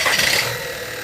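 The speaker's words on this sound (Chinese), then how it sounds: "发动机着车的时候噪音特别的大" A recently overhauled Volkswagen engine idles with an abnormal humming drone, a short close burst of steady mechanical hum with faint rattle on top, louder at first, then settling slightly.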